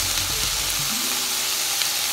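Kale sizzles in a hot frying pan, a steady broadband crackle that stays even and close throughout, with a brief low thump near the start and no voices.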